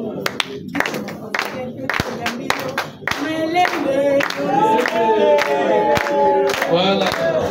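A large crowd at a Congolese cultural ceremony with the culture minister claps and cheers for several seconds, dense and close, with voices mixed into the applause.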